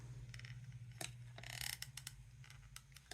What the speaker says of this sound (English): I'm going to use my Sweet Petunia glue press today.